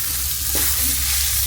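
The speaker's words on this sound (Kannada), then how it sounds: "ಒಗ್ಗರಣೆ ಒಳಗನ ಕತ್ತಿ ಒಳಗೆ ಹಾಕಿಬಿಡ್ತೀನಿ" Egg frying in hot oil tempering, stirred in a pan: a steady, loud, close sizzle runs throughout, with a brief scrape of stirring partway through and no voices.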